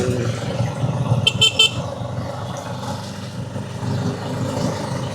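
A tricycle rides through busy Davao city traffic, a low rumbling engine and road noise with a brief cluster of horn toots from nearby vehicles, steady and fairly quiet, no talk.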